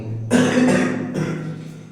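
A single close, loud cough, a harsh burst followed by a shorter second hack.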